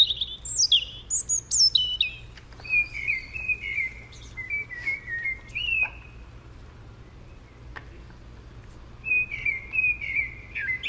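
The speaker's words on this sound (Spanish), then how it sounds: "El petirrojo, ay, vea qué belleza." European robin singing outdoors: bright, high, twisting phrases broken by short pauses, clear and fairly close over a quiet low background hum, with no talk.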